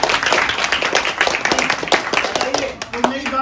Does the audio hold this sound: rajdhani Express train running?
no